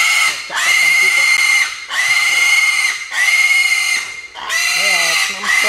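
Young piglet squealing loudly in four long, harsh bursts separated by short gaps, close to the listener; the final burst wavers in pitch.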